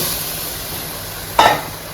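Bengali chicken masala curry sizzles steadily in a hot pan, with a spoon scraping through it in two sharp stirring strokes near the end.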